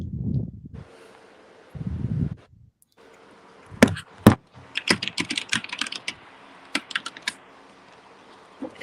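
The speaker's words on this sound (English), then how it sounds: "Sam, are you Sam typing?" Computer keyboard typing picked up on a call microphone: bursts of sharp, irregular key clicks close by, after a few low rumbling bumps, with no talking.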